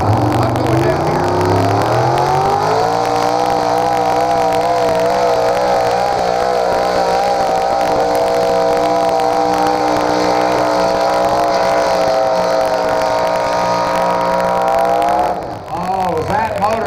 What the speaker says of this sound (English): Oh, was that motor not singing?